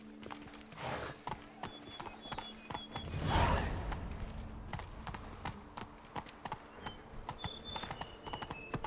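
Roach, the horse in The Witcher 3: Blood and Wine, gallops with rapid, rhythmic hoofbeats. A brief neigh is heard around the middle, and faint game sounds continue in the background.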